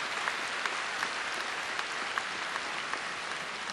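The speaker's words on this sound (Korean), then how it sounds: "여러분 뜨거운 박수로 환영해 주시기 바랍니다" A large audience at a festival opening ceremony in Seoul, South Korea, applauds to welcome arriving guests. The clapping sounds even and continuous, heard from a distance and fairly quiet throughout.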